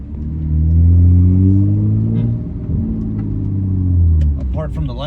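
A supercharged Harley-Davidson edition Ford F-150 pickup gives a deep, loud engine rumble close by, swelling and easing over a few seconds. Voices can be heard near the end.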